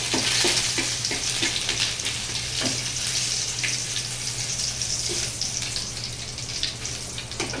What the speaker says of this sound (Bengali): আদাটা একটু লাল লাল করে ভাজা হয়ে যাবে